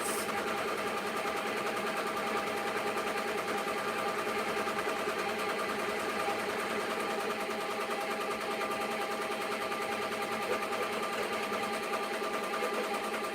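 A sewing machine runs steadily, stitching layers of tutu fabric, with a close, even, rapid mechanical whir that continues without a break.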